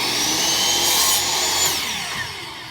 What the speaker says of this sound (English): With this power miter box, more accurate than the radial arm saw, it's going to do a really nice job cutting your pieces